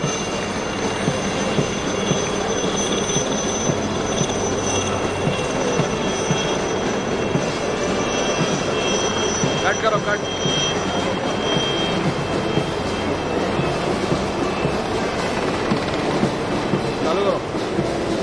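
Chetak multi-role helicopters fly past at a Navy Day display, a steady, continuous rotor and engine roar holding near-constant loudness throughout, with a faint voice audible underneath.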